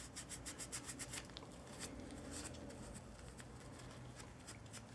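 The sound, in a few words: wire brush scrubbing grease off brake parts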